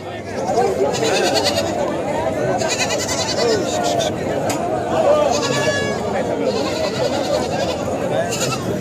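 Goats bleat repeatedly, some near and some farther off, at a busy goat market in Sangola, amid constant crowd chatter and people talking nearby.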